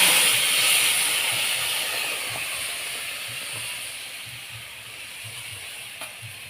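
Hot mustard oil hisses steadily in a wok as hung curd goes in for a Bengali doi ilish dish, a broad constant sizzle that slowly fades, with no talking.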